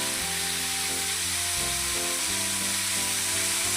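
Chutney ingredients with roasted gram (pottukadalai) sauté in a hot pan, giving a continuous dense sizzle with a steady mechanical hum running underneath.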